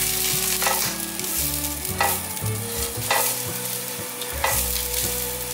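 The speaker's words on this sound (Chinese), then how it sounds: "锅内放入少许油，油热了之后把姜末放下来炒香。" Minced ginger stir-frying in a little hot oil in a wok, a steady close sizzle broken by repeated scraping stirs of the spatula, with no talking.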